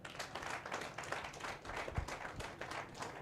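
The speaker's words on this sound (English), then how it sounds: "give my Rada team a special round of applause" A crowd applauds steadily at an investment forum, a dense patter of many hands clapping at moderate distance.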